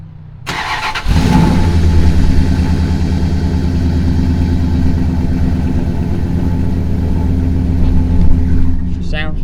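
A stock Chevrolet Silverado truck engine runs steadily after a brief rise, a loud, close, even rumble that holds for several seconds without talk over it.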